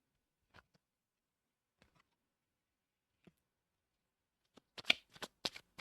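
Oracle cards are shuffled and laid down on a surface: a few soft, isolated taps and slides at first, then a quick burst of riffling card flicks near the end, all quiet and close.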